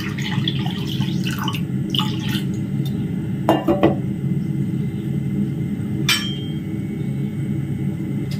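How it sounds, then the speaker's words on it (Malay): Water poured and dripping into a cooking pot while making pengat tapai kering ubi kaya, a Malay dried cassava dessert, with light stirring and utensil clinks over a steady kitchen rumble, no talk. "Lepas tu kita buat air sikit."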